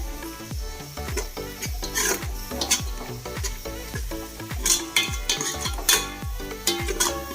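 Biryani masala sautéed in oil in a pot, with repeated sharp scraping and clinking of a spoon against metal in an irregular rhythm over a continuous low sizzle, close and fairly loud, no voices.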